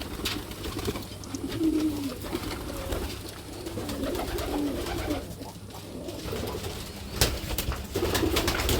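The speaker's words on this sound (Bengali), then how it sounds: "দেখুন দেখুন আমার কবুতরগুলো।" Low, rounded cooing from several pigeons kept in a loft with chicks and eggs, repeating in soft irregular phrases close by over a faint background rustle, with no talking.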